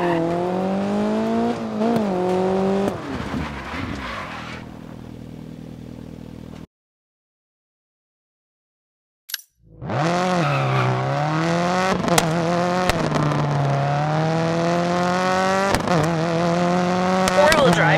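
A rally car in Dirt 4 drifts through corners with engine revs rising and falling, tyres squealing and gravel hissing, broken by a brief silent gap before the loud engine note returns.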